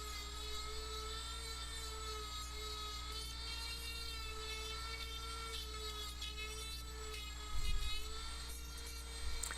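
A Dremel rotary tool smooths a birch wood carving with a steady high-pitched whine and grinding buzz, close and continuous, with a brief louder bite near the end as the bit digs in.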